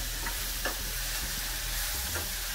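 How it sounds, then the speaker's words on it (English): Onion, garlic and chili sauteing in a pan for dal, a steady broad sizzle with a few light stirring taps, close and without talk. "garlic, chili, everything is sauteing pretty well, getting translucent."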